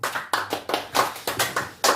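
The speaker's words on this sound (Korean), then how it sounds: "하나님께 영광의 박수로 영광 드리겠습니다" A small group at a home worship service claps in praise of God, about seven sharp rhythmic bursts of applause, close and clear, with no talking.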